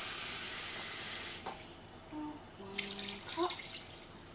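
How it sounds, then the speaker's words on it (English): Water poured into a rice flour and coconut milk crepe batter, a steady splashing stream for about a second and a half, then a few softer trickles and drips. "we're going to add 2 cups of water"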